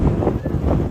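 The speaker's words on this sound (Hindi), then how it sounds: "बड़ी खतरनाक हवा चली है" A violent windstorm roars and buffets a microphone outdoors in Dera Ghazi Khan, loud continuous gusting rumble with pulsing surges, close and overwhelming, with light rain in the weather.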